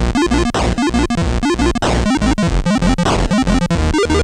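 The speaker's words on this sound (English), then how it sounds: "So that was some music on Atari TAA Tracker." Chiptune music from an Atari tracker plays as fast, bright square-wave melodies over pulsing bass and percussive noise bursts, loud and busy with no talk.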